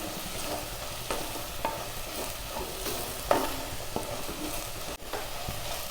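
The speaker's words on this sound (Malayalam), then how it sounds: "സവാള നന്നായിട്ട് വഴന്ന് വന്നിട്ടുണ്ട്" Browned onions sautéing in a pan for sukha chicken, a steady close sizzle with repeated scraping stir strokes every second or so, one sharper clack near the end, no talking.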